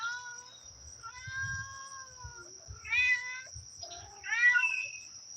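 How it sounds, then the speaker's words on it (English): A mother cat meows to her kitten outdoors in the Ozarks, a series of several long, wavering calls at moderate distance over a steady high insect-like drone and low background rumble. "The mother cat is talking to her kitten."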